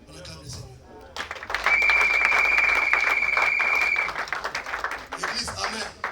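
A church congregation breaks into applause, a dense wash of clapping that swells and holds for a few seconds, with a sustained tone and voices mixed in before it fades.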